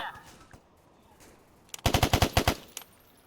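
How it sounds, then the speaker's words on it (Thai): Automatic gunfire in a Roblox zombie game: a sharp burst of about ten rapid shots in quick rhythm, loud and close, preceded by a few faint scattered pops. "ยิงประชาชนทุกคนที่มีอาวุธ"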